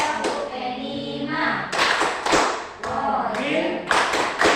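Classroom group doing the Tepuk P5 clap chant, sharp rhythmic claps in unison punctuating voices chanting together, several bursts close by.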